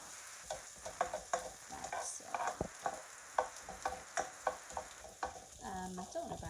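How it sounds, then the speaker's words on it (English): Chopped onion frying in a pan for a salmon, prawn and broccoli tagliatelle, stirred with a utensil: a steady sizzle broken by repeated scraping and clacking strokes against the pan, close and fairly loud, with no talking. "So let's just give this a stir, get that going."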